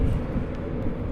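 A Class 91 electric train passes through York station with a loud, steady low rumble that fills the short stretch without any break.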